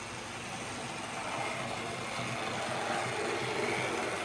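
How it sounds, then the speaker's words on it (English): A Hornby King Arthur class model locomotive's XO4 electric motor hums and whirs continuously at an even pitch, close by, with a faint rattling vibration. "This has got an XO4 motor in it, as you can hear."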